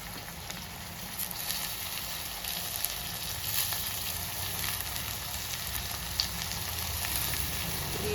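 Chopped spinach sizzling and frying steadily in a hot pan with thelaga flour, a continuous close hiss and crackle with no talking.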